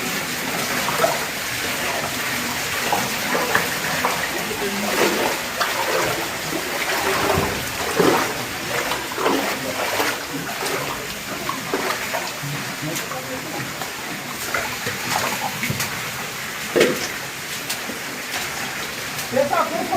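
Waterfall at the exit of a sandstone cave (Gruta de Sobradinho, Cachoeira da Lua), a steady broad rush of falling water filling the space, with people's voices and splashes mixed in throughout.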